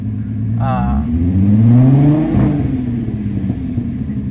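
A rebuilt VR6 engine in a Volkswagen GTI revs up and then settles back down, rising in pitch before easing off, with a low rumble throughout.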